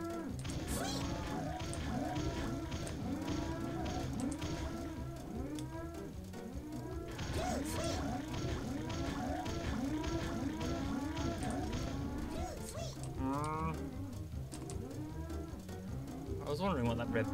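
A cow lows repeatedly in the South Park PC video game, with continuous mooing over busy game sounds and background music throughout.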